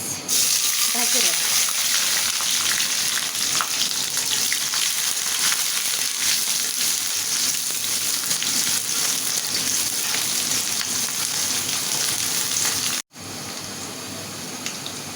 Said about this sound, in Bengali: পেঁয়াজ মরিচ আমার সুন্দরভাবে ভাজা হয়ে গেছে